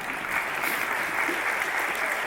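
An audience at a faith event gives Fernando steady, close applause, a dense wash of clapping that holds at an even level throughout.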